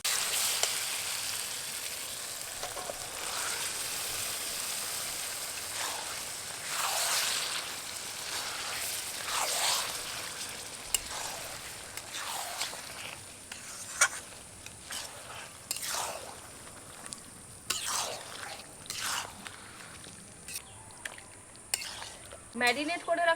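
Marinated yogurt chicken hits a hot pan with onion and tomato, sizzling steadily while a spoon scrapes and stirs in repeated strokes, close up and fairly soft, with no talking.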